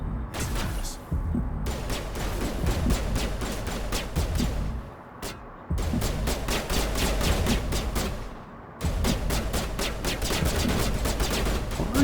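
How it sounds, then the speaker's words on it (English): Mass Effect Legendary Edition gunfire, long sustained bursts of rapid automatic shots, loud and close, broken by two brief pauses. "Why are you shooting that?"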